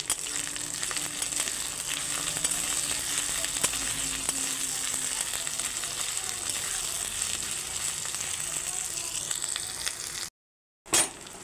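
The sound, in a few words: chopped tomato frying with onion and ginger-garlic paste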